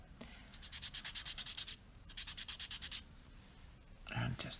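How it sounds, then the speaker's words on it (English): A paper blending stump is rubbed back and forth over sandpaper to clean it, giving two quick rhythmic runs of gritty scratching strokes, close and fairly quiet, then a brief handling sound. "you rub it over the sandpaper until it's clean"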